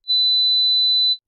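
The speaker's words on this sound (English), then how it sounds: "Remember, this is a pure tone and you'd expect it to sound like this." A steady 4 kHz pure sine tone holds at constant loudness for about a second, then stops cleanly.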